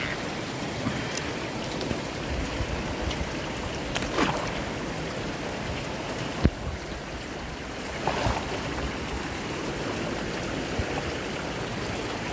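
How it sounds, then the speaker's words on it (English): Spring water trickles out of rock crevices beside a river, a steady, moderately loud wash of running water with occasional splashes and knocks, and no voices. "looks like water's coming from the rock crevices"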